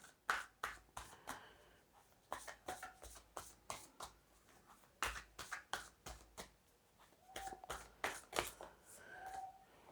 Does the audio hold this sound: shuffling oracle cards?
yes